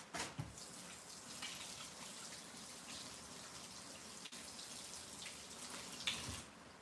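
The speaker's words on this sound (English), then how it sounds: "I got to rinse my hands off, y'all." A tap runs steadily into a sink as hands are rinsed after handling ground turkey for canning, a faint continuous splashing stream with a few sharper splashes near the start and end.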